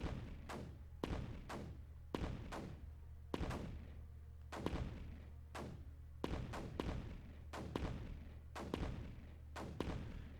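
Heavy cannon booms in the video game Creeper World 4 fire over and over at a steady, rapid pace, each blast sharp and loud over a constant low hum.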